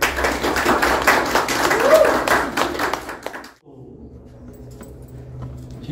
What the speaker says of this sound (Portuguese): Então uma salva de palmas para Santa Helena Colodir